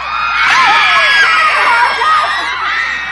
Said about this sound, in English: Girls screaming at a concert and not for somebody else.